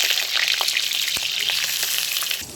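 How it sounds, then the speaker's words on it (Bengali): Cut pointed gourd (potol) pieces fry in hot white cooking oil, giving a loud, continuous close-up sizzle with scattered crackles and pops throughout. "তেল গরম হয়ে গেছে, তেলের মধ্যে কেটে রাখা পটলগুলো দিয়ে দিচ্ছি। খুব ভালো করে পটলগুলো ভেজে নেব।"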